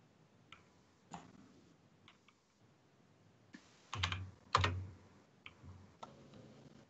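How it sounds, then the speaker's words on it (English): Computer keyboard keys tapped during an online poker cash game: a few sparse, faint clicks and short bursts spread over several seconds, with one denser cluster of taps midway and no talking. "I hear the keyboard."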